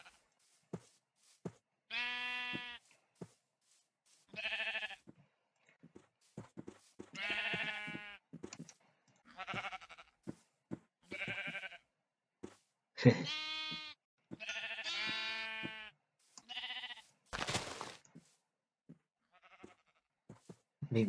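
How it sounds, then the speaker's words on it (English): Sheep in the Minecraft video game bleat repeatedly over about twenty seconds, a string of short wavering calls separated by brief silences, clear and close with no talking. "There's more sheep over there."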